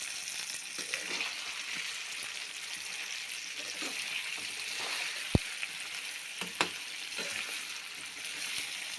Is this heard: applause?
no